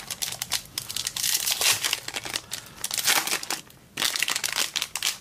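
Footy Stars trading card packets crinkle and tear open up close, a continuous loud foil crackling and crumpling in bursts with a brief pause near the end.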